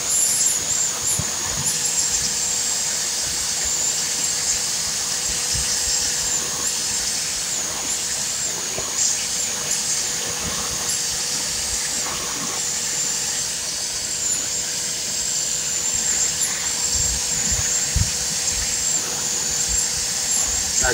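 A Bissell vacuum's beater brush runs steadily over spilled powder, a continuous close whirring hiss with a faint steady hum and scattered small rattles, no voices.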